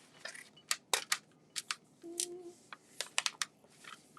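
Scissors snipping through material while working on an antique metal frame, a series of short, crisp cuts in uneven rhythm, close and fairly quiet, with a brief low scraping hum midway.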